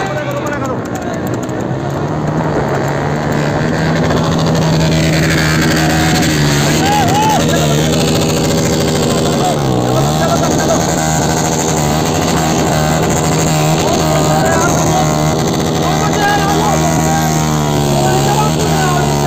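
Motorcycle engine running loud and close, a throbbing drone with rising and falling revs, with voices talking over it throughout at a carnival.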